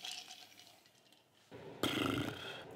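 A loud, close burp comes from a man partway through, a sudden raspy eruption after quieter moments, and no words are spoken.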